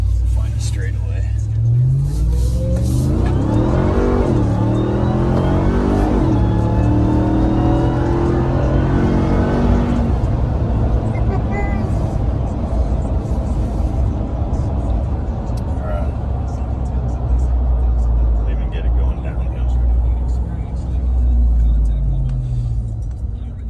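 Ram TRX pickup truck launching at full throttle, its engine heard from inside the cab with a loud rising roar and climbing revs through gear shifts, settling into a steady rumbling cruise, while a person talks over it.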